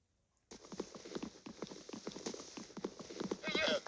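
A horse's hooves clip-clop rapidly and closely in a game setting, followed by a short whinny near the end, with speech mixed in.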